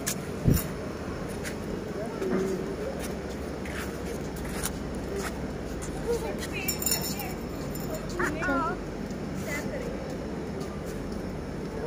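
A dog gives a short bark near the start, followed by faint yips and whimpers amid background chatter and household noise.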